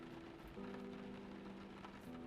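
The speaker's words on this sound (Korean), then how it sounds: "빗소리 영상을 틀어놓고 하고 있는데" Steady rain from a played recording of rainfall, a soft continuous hiss with a faint low hum running beneath, even and unbroken throughout.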